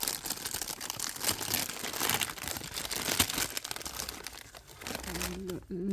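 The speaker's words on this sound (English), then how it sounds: "Sorry about the scrunching, if that's a thing for anyone." Close, busy crinkling of a plastic tea packet, sharp crackles and rustles in quick irregular bursts, ending with a brief low hum.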